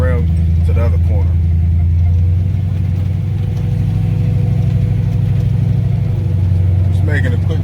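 A custom classic car's engine rumbles steadily at close range, a deep low-pitched drone that holds through the whole stretch with slight swells, while someone talks over it.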